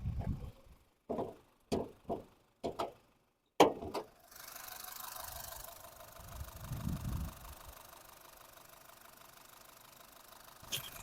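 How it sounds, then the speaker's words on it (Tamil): A 2011 Honda City S petrol engine idles after a series of sharp clicks and knocks. It settles into a faint, steady hum with a low swell partway through. "அப்படியே வாங்க இன்ஜின் நாய்ஸையும் பாருங்கள்."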